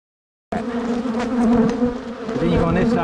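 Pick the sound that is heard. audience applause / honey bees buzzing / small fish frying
honey bees buzzing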